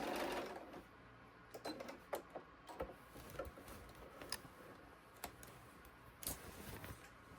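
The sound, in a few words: sewing machine back stitching a knitting bag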